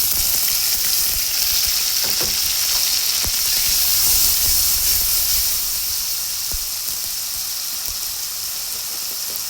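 Ginger-garlic paste frying with browned onion and green chillies in oil in a wok, a loud, steady hiss and sizzle up close with faint stirring knocks, slowly settling, no voices.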